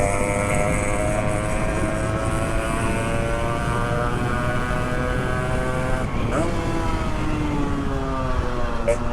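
A 2-stroke motorcycle engine revs loud and close, holding a sustained high, buzzing whine that dips briefly and climbs again partway through.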